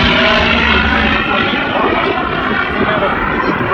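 Aircraft flying at an airshow at Selfridge Airbase in Michigan, a loud continuous engine roar filling the whole stretch with a broad steady drone and no pauses.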